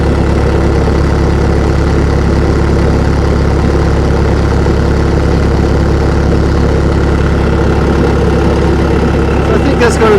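Bobcat T190 skid steer engine idling after a metal coolant tank install, a loud, steady, close diesel drone with a constant low rumble and no change in pitch throughout.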